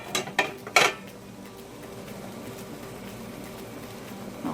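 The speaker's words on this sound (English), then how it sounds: "Now I use my magnet. Let's take that lid off." A magnet lifts a metal canning jar lid out of hot water while canning dilly beans and pickled okra. A few sharp metallic clinks come close together at the start, then a quiet bubbling background follows.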